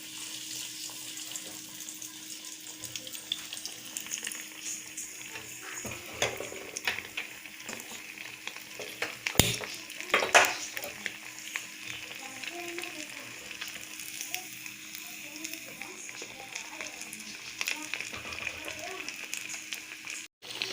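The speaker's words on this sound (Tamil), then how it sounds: "இது ஒன்றா போட்டு நம்ம பொரிச்சு எடுத்துக்கலாம்." Heart-shaped bread cutlets coated in breadcrumbs fry together in hot oil, giving a steady soft sizzle that runs throughout, with a few brief clatters of the pan or utensils near the middle.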